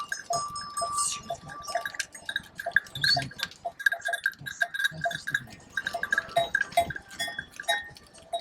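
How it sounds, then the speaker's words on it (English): Many clanking bells ring irregularly as a herd of goats passes close by on a hiking trail on Turkey's southwest coast, with occasional bleats and hooves shuffling. "There are so many goats."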